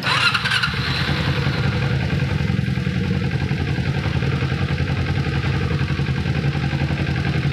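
A two-cylinder carbureted motorcycle engine starts and runs with a loud, close, rough idle during carburetor tuning, rising slightly as it's revved, steady throughout.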